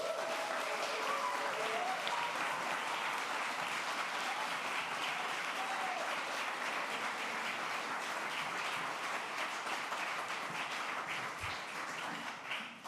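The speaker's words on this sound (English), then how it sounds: "Let's give these young people a round of applause." Congregation at a Unitarian Universalist coming-of-age service applauding young people, a long, even wash of many hands clapping that holds steady for about thirteen seconds and tapers slightly at the end.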